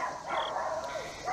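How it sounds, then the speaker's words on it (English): Several small dogs yap and whimper in quick, excited bursts, fairly close, with no talk over them during the moment. "As soon as I start talking, they start yapping."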